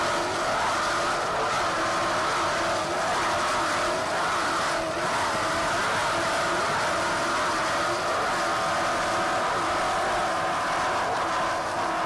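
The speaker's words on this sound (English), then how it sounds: "Boat sounds very strong right now." A Systems team racing powerboat off Key West in 1988 roars at full throttle, its engine a loud, continuous, unbroken drone throughout, with no voices over it.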